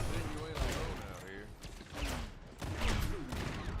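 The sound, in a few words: gunfire in a first-person shooter video game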